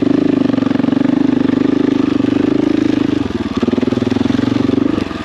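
Motorcycle ridden along a rocky, dangerous Idaho trail, engine droning loud and steady close by with a pulsing throb, briefly easing off and dipping in pitch before pulling again.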